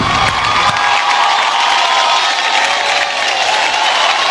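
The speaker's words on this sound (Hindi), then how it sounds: "इस टीम के लिए जोरदार तालियां होनी चाहिए" Loud crowd cheering and applause fill an awards show hall as the Best Ongoing Drama Series award is announced, a dense, steady roar of clapping and whoops with no clear speech.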